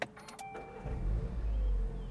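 A warm, stock VW Golf GTI Mk8 starts up close by: brief clicks and a starter whir give way to a low, loud engine rumble that settles into a steady idle.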